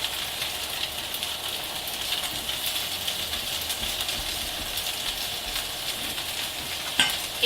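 Zucchini fritters fry in oil in a pan, giving a steady, close sizzle and crackle that runs throughout. A small clink comes near the end, and no one speaks.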